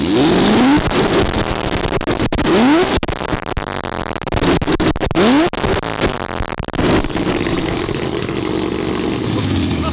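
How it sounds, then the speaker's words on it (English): A 1,000 hp car with anti-lag roars and revs loudly at close range outdoors, its exhaust firing sharp, repeated pops and bangs between rising and falling engine sweeps. "I've never been outside of this car with anti-lag on"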